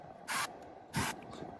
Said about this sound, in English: another little spray of oil.